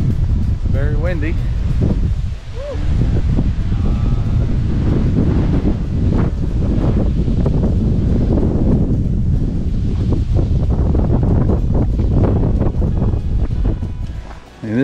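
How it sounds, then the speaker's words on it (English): Strong wind roars steadily across a mountain clifftop on the Appalachian Trail at Tinker Cliffs in Virginia, a loud continuous buffeting against the microphone with gusty swells throughout. "Very windy."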